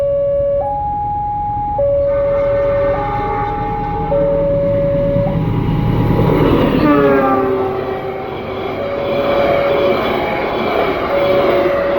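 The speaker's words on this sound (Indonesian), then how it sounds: "kereta api Sangkuriang berjalan langsung stasiun Sepanjang" The Sangkuriang passenger train runs through Sepanjang station, its horn sounding in long stepped tones before the loud roar of the locomotive and cars passing close by, then the horn sounds again as it moves on.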